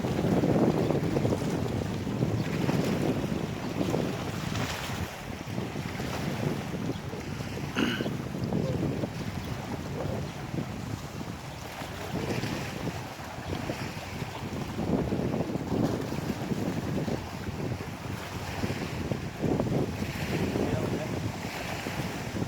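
Strong wind buffets and rumbles across the microphone for the whole stretch at a seaside fishing spot on Ko Yo, Songkhla. Waves wash beneath it, and the gusts rise and fall without a break.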